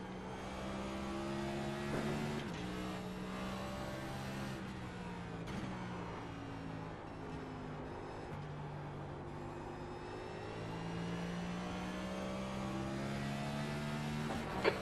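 Next-gen stock car engine in a racing video game lapping Mosport, revving up and down through gear changes with rising and falling tones, moderately loud and steady throughout with no talk.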